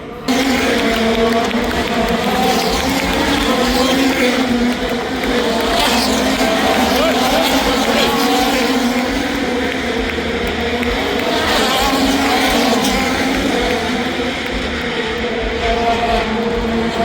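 IndyCar race cars roar past continuously, a loud sustained engine drone with rising and falling whines as they pass close by.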